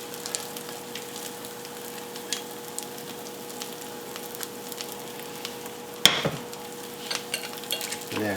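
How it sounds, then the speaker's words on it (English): A spoon briefly stirs raspberry sauce strained through mesh in a pan, giving a soft low scraping with one louder clatter near the end over faint background hiss. "Yeah, quick little stir."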